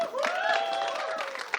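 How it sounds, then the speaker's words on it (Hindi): Audience applause fills the clip, a steady wash of clapping with a tonal voice or music running over it. "बहुत सारी तालियां"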